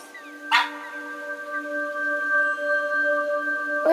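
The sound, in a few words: dog barking and whimpering in the video game That Dragon, Cancer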